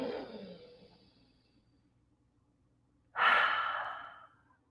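A person takes one deep breath in through the nose. It is heard as a single loud, close airy inhale of about a second, following a softer breath fading out at the start.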